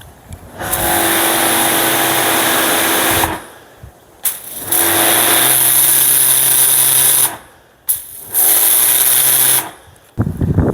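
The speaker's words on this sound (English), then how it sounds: "I'll just show you how a good lance performs, a turbo lance." A Karcher pressure washer with a turbo lance sprays in three loud, sustained bursts, each a hissing roar with a motor drone beneath, cut off by short silent pauses between triggers.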